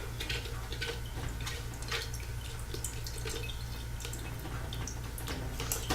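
An oxymel mixture drips slowly through a strainer, giving soft, irregular drips and taps over a low background hum.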